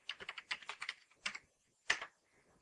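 Someone types on a computer keyboard: quiet, close clicks in a quick burst, then a pause, a couple more taps and one sharper keystroke near the end.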